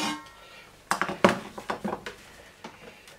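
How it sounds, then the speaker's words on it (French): Cooking pot lifted out of an Inkbird ISV 100W sous vide immersion circulator while unboxing, giving a short series of close metallic clanks and knocks, a few sharp hits followed by lighter taps, with no talking. "je vais retirer la marmite"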